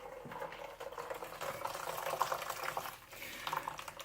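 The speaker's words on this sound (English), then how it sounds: "you can see the almond milk just pours out of it" Homemade almond milk pours from a straining bag in a steady, soft liquid trickle and splash that runs throughout at moderate closeness.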